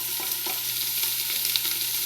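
Chopped onion, about two cups, sizzles in hot oil in a pot, giving a dense, steady frying hiss with occasional soft pops and stirring scrapes, close and continuous.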